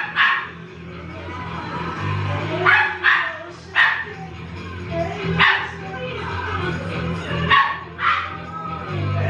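Small dog barking in a house, several sharp yips and barks in irregular bursts, fairly close, with low background hum between them.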